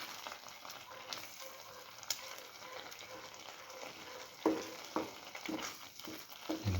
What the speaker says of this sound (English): Now slowly scramble.